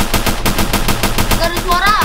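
Rapid automatic gunfire from a weapon in the Roblox video game, a steady stream of loud evenly spaced shots close up, with a brief electronic sweep near the end.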